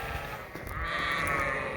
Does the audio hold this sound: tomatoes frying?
no